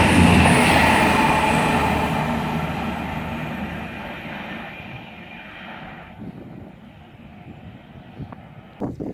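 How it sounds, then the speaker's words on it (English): A Class 221 train bound for London Euston at Tamworth station on the West Coast Main Line, a loud rumbling roar of the passing train that slowly fades, ending in a few faint clicks. "now approaching's going to be a Class 221 going to London Euston"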